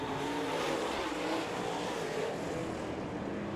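Race cars roaring around Bakersfield Speedway during a 30-lap feature at the Budweiser Nationals, a dense, steady engine din heard from a distance with no let-up.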